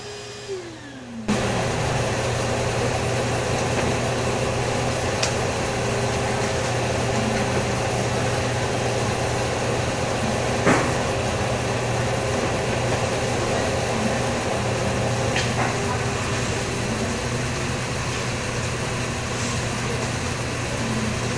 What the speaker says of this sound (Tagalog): i-blower lang natin dyan para para matuyo lang yung basa niya